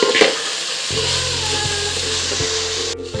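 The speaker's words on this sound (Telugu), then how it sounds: "తోటకూర కూడా ఆయిల్లో నెయ్యిలో మంచిగా ఫ్రై కావాలి" Amaranth leaves frying in oil and ghee for a vegetable biryani, a steady close sizzle with soft rhythmic scraping of stirring throughout.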